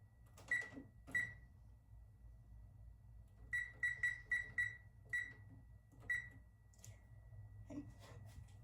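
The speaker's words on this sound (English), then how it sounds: "Set my timer." Kitchen timer being set, giving a series of short, sharp electronic beeps: two, then a quick run of five, then a few more, each crisp and close in a quiet room.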